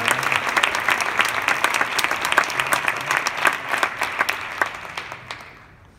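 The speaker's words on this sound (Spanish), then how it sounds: "Un aplauso muy fuerte." An audience at a concert of processional marches applauds steadily, with dense, near clapping that holds for about five seconds before tapering off and fading out.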